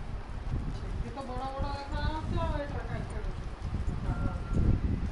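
Horse hooves clip-clop at a steady walking rhythm in Red Dead Redemption 2, moderately loud beneath someone talking and in-game music with melodic tones.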